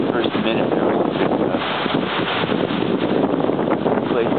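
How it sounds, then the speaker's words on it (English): Strong wind during a thunderstorm in Saskatoon buffets the microphone in a steady, loud roar, gusting continuously throughout. "Wind is really picking up now. Oh, like really windy."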